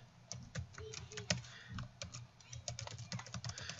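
Someone types an email address on a computer keyboard: quick, irregular key clicks close to the mic, with a few brief pauses between bursts.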